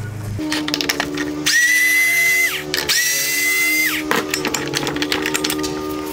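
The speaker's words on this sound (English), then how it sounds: "The next thing I'm going to do is remove two T20 screws here to access this" A power driver backing out two T20 screws from a 2019-2021 Mercedes-Benz A220 LED headlight, with two close whirring runs of about a second and a half each that pitch up, and rattling handling between them.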